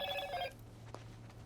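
A phone ringtone in a video game playthrough of The Last of Us, a short bright melodic ring lasting about half a second and then cutting off, leaving a low hum and faint sounds.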